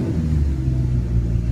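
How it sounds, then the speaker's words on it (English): A Maserati GT V8 in sport mode with exhaust valves open gives a deep, loud engine rumble close by, a thick low-pitched exhaust drone that holds steady with slight pulsing. "You can hear the valves open up."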